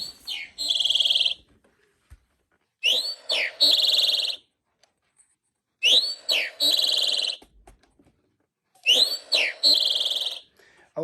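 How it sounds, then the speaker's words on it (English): Eastern towhee song from a 13-inch wall bird clock, played as four separate phrases of bright whistled notes ending in a buzzy trill, evenly spaced with short silences between them, clear and alone. "10 o'clock is the eastern towhee."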